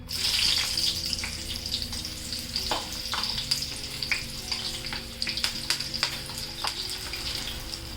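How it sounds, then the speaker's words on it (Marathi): Slit green chillies frying in hot oil for vada pav give a steady, close crackling sizzle with scattered sharp pops and spits, no voices. "वडापाव बरोबर खाण्यासाठी ही हिरवी मिरची आहे ना, ती पण मी तळून घेणार आहे"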